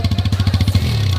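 Close, loud exhaust of a TVS Apache RTR 160 2V motorcycle: an even chain of rapid thumps that turns into a smoother, denser drone near the end of the short burst, with no voices.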